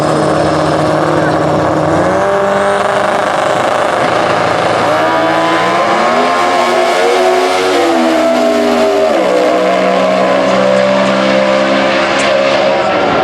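Comp Eliminations drag racing at the 2015 US Nationals, with a turbocharged 4-cylinder Chevrolet and a big-block Chevrolet: loud, continuous engine roar with rising and falling revving pitch, mixed with a commentator's voice throughout.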